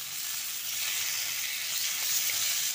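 Chopped tomato fries in a hot kadai for a Bengali aloo dum. A steady, dense hiss of sizzling oil runs close and continuous throughout, with no talk.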